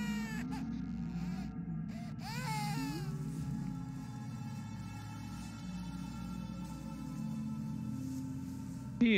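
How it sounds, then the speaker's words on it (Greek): A baby cries and whimpers in the horror video game Visage, steady wailing with rising and falling pitch over a low droning game ambience, continuing without pause for several seconds. "Ένα μωρό ακούω"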